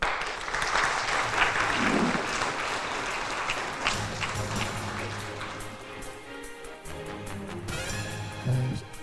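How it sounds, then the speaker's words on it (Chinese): A lecture-hall audience applauding as the president of a foreign relations association is invited on stage, sustained dense clapping that carries on for several seconds. "让我们用掌声邀请对外关系协会会长林永乐会长为我们上"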